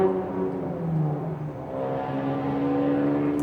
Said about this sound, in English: Oh, it's one of those stupid sports cars that they have around here.